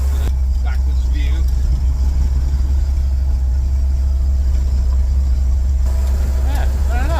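A 1967 Chevy G10 van's engine drones loudly and steadily from inside the cab while driving, a constant low rumble with faint voices in the background.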